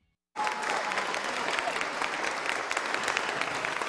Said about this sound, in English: To a standing ovation and a round of applause, Republican vice presidential candidate Paul